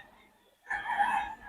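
Rooster crowing at a bustling poultry market in Bocaue, a single loud, strident crow rising abruptly after a quiet stretch and holding for most of a second before cutting off.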